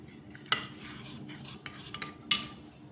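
A spoon mixing a thick batter slurry in a bowl for bread potato snacks, faint soft swishing with a few sharper clinks against the bowl, close and quiet with no talking.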